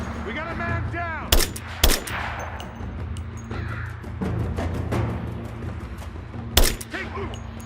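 Gunfire in the Rise of the Tomb Raider video game, with several loud, sharp shots scattered unevenly amid a firefight, crows cawing nearby between the blasts.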